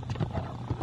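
A horse's hooves clip-clop in a riding arena, about four dull thuds in a quick steady rhythm, close and moderately loud.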